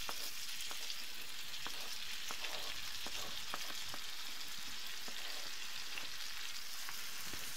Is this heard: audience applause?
no